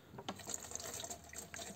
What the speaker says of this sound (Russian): Теперь подливаю полторашку воды